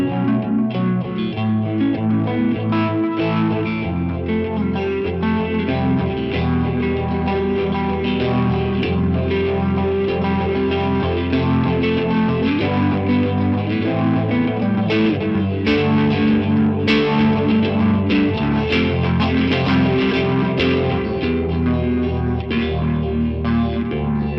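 Electric guitar played through a Mosferatu overdrive pedal into an HX1 phaser, a Keeley Halo delay and a Keeley Hydra reverb, neck pickup with the tone knob raised. It rings out as a steady, dense, saturated line with swirling repeats and a wash of ambience, and no voice over it.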